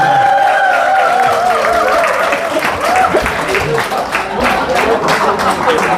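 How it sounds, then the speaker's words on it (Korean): Audience applause at a Korean Heungsadan assembly lecture, a dense steady clapping throughout with a tonal voice or cheering line mixed in, loud and close. "자, 그럼 박수 한번 다시 한번 보내주시기 바랍니다"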